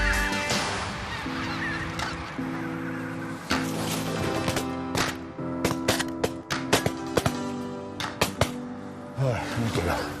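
Greater white-fronted geese honk repeatedly and loudly nearby during a hunt, a chorus of harsh calls, with sharp sudden gunshots cutting in toward the end.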